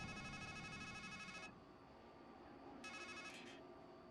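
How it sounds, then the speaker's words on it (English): A telephone rings inside the Strangeland video game: a bright electronic ring of about a second and a half, a pause, then a second shorter burst, clear and close over a low ambient hum. "I think the phone's calling me."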